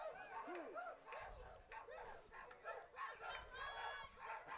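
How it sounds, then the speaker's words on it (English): Several dogs in the audience at a softball game bark and yip in short, scattered bursts over a murmuring crowd, fairly distant and mixed with background voices. "Hear a bunch of dogs out there in the audience. A little barking going on."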